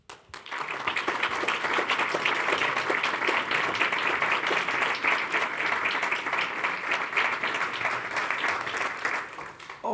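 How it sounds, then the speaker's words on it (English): Sustained applause from an audience greeting a panel taking the stage at an evening event on climate risk, dense and steady for about ten seconds before tapering slightly at the end. "Thanks for clapping, because it's always extremely awkward when you walk up on here after an introduction."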